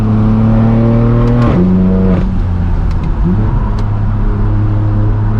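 A BMW M4 F82 with the S55 engine revs hard through quick gear shifts. Its loud, steady engine drone drops in pitch at each shift, then climbs again as it pulls through the gears.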